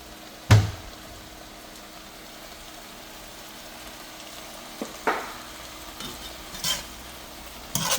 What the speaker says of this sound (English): I'm just letting this saute for a few minutes